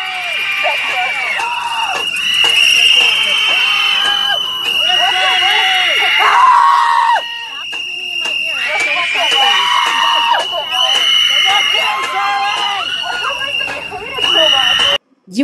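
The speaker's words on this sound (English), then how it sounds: "You got these not so well educated adults just surrounding them and just screaming their heads off right in their fucking ear" In Philadelphia, adults crowd around a group and scream at them at close range, a continuous loud wall of shouting voices over a steady piercing tone that runs almost without a break.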